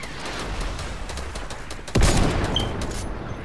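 Rocket-launcher fire in Fortnite, a loud blast breaking in midway through and ringing out against a steady backdrop of distant gunfire and battle noise.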